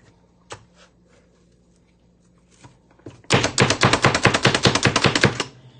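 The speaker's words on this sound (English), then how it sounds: "Well, now you know the onion chopper will chop up spinach." A hand-operated onion chopper works through fresh spinach for a one-pot quinoa, spinach and chickpea meal. After a few faint clicks comes a rapid, loud burst of about twenty close, sharp chops in a steady rhythm.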